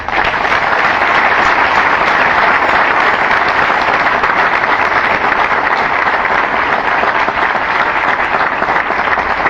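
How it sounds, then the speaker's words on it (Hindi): An audience at a satsang in a Delhi ashram on Gita Jayanti claps together in loud, dense, sustained applause that stays steady from start to finish. "तब हाथ खोलकर ताली बजानी चाहिए।"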